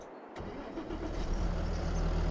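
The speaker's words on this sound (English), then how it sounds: "Now, if we turn it over, it should start straight away." A tractor engine in the farming game Farming Simulator 22 turns over and fires up straight away after repair, settling into a loud, steady low idle rumble with no talking.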